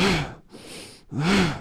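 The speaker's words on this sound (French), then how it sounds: "L'inspiration." Two deep, audible breaths drawn through the nose during a seated forward-bend yoga stretch (Paschimottanasana), close and breathy, with a soft pause between the strong opening and closing pulls.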